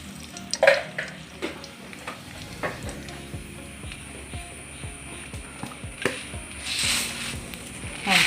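Mustard seeds frying in coconut oil in a pan, a busy crackle of small pops and sizzles, some sharp and close, continuing throughout with a faint ticking underneath and no talk.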